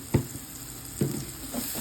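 Spring onion and egg bhurji mixture frying in a pan, with three short sizzling bursts as it is stirred, close and fairly loud, with no talking.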